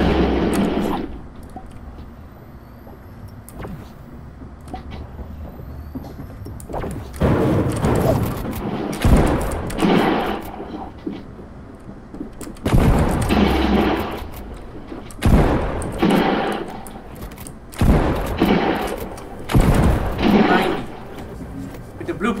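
Blue pump shotgun blasts in Fortnite, several loud booming shots spaced across the clip amid game sounds, with people talking over the action.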